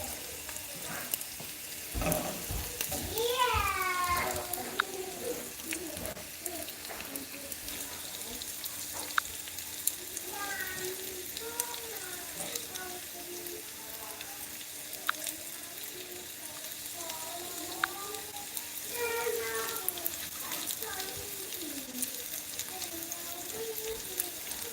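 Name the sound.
Milagro tortillas frying until crispy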